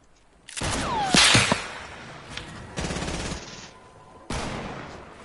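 Gunshots in the battle royale game Fortnite: a loud burst of rapid automatic fire with sharp cracks and a whizzing ricochet, then two further shorter bursts after pauses, close and punchy with no talking.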